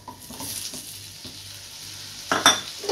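Paneer fries in masala over a low flame in a pan, giving a quiet crackling sizzle with several soft spatula scrapes, then a louder clattering stir near the end, with no voice.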